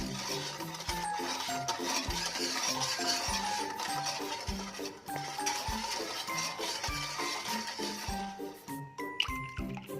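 Stirring a school-milk mixture for homemade ice cream: a spoon scrapes and clinks rhythmically around the bowl in a steady repeating pattern, with light liquid swishing and a few brighter taps toward the end.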